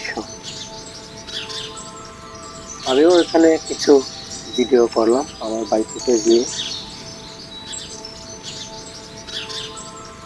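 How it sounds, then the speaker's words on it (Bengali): Birds chirp in a rubber plantation with bright repeated tweets in two bursts near the middle, while someone talks throughout and insects buzz faintly behind. "এখানে পাখির কলরব"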